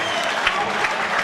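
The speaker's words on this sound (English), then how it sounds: "give a round of applause for these two fighters in centre ring" A crowd claps and cheers for two fighters after a bout at a boxing event, a dense, steady wash of applause filling the whole moment.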